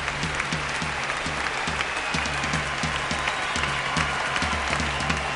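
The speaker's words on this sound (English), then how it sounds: "they're getting a great round of applause" A ballroom dancing final at the Amateur European Championships ends in a steady wash of audience applause, dense and even across the hall, with music thumping underneath.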